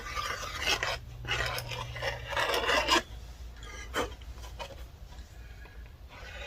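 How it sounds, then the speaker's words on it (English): Flashing is scraped off the edge of a cast concrete part in repeated rough, rasping strokes, close and moderately loud, in bursts with short pauses and no talking. "scrape the flashing off there"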